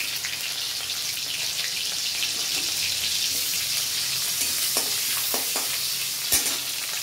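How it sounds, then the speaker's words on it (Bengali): Chopped onion frying in a pan while cooking hilsa fish head, a steady close sizzle and crackle with a few sharp spits and pops throughout. "পেঁয়াজটা ভাজা হোক"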